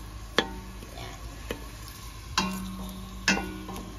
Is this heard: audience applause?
no